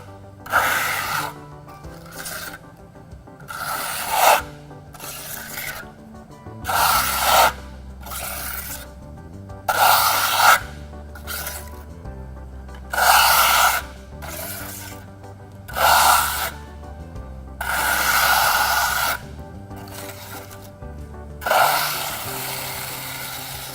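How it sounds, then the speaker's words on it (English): A trowel smooths a skim coat across a wall in a steady series of loud, rasping strokes, each about a second long with short pauses between, and no talking. "We're going to take and smooth it out just like skim coating on our Hallmark system."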